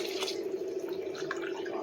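Water poured into a cooking pot of mushroom biryani with rice, a steady close trickle and splash continuing throughout without speech.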